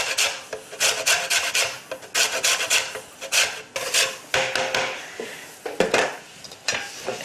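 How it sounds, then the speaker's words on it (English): Lime rind being grated on a grater, a run of quick, close rasping strokes in uneven bursts, clear and alone with no talking. "So the grated rind of 1 lime"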